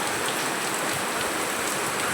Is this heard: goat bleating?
no